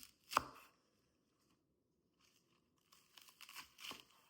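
A knife slices through asparagus with one sharp, crisp crunch, then a pause, followed by a few softer cutting and rustling sounds, close and fairly quiet.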